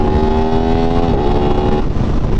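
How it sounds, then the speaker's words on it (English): An Aprilia RS660 motorcycle revving hard with a quick shifter, a loud close engine tone that holds steady, then drops abruptly near the end as a gear changes. "the quick shifter on this thing is, like, it could definitely be a lot better. Like, it's not very smooth,"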